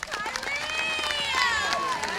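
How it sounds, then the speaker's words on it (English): Crowd at a beach volleyball court ribbon cutting cheering and whooping, bright raised voices swooping over a loose bed of clapping and chatter, fairly close and lively. "So a very, very warm applause for Kylie Lingenfelter"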